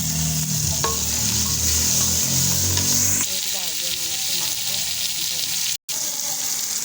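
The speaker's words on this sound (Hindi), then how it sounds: "अब डालेंगे एक अदरक थूम टमाटर का पेस्ट" Ginger, garlic and tomato paste sizzles loudly in a pot for a potato-and-pea pulao, steady frying noise with a few utensil clinks, quieting after a few seconds.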